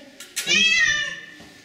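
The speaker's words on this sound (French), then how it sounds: "tu sais qu'il miaule fort" A pet cat named Titou gives a loud, drawn-out meow lasting about a second, close by, preceded by a short softer mew and followed by a faint trailing cry.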